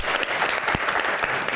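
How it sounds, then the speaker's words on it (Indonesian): Audience applause for guest speakers at a Q&A event, a dense, steady wash of clapping from a crowd, moderately close and continuous throughout, with no voices standing out. "rekan-rekan kita berikan tepuk tangan yang paling meriah untuk bintang tamu kita"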